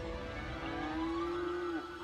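A single long cow moo rings out on a farm in the city-builder game Cities Skylines, a steady low lowing call that holds for nearly two seconds and tails off, over a constant ambient background hum.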